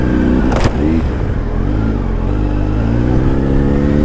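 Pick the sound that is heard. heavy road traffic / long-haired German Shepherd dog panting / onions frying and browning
heavy road traffic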